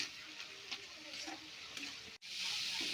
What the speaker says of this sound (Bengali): একটু খুন্তি দিয়ে এরকম এরকম করে মানে পুরো ভেঙে দেবো, দলা দলা যাতে না থাকে।